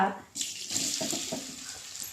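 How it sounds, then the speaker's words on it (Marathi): Chopped colocasia leaf roll tips into a hot mustard-seed, asafoetida and oil tempering, setting off a steady hiss that rises abruptly and continues under light stirring. "अळूचा उंडा चिरलेला आपण टाकूया आणि तो परतवून घ्यायचा"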